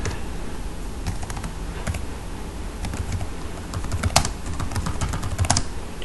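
Typing on a computer keyboard: quick, uneven runs of close, crisp key clicks that go on without a break, with a few louder strikes mixed in and no talking.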